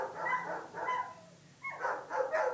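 Dogs in an animal shelter kennel row give several bursts of barking and yelping in two groups, with a short lull between them, fairly close and alone.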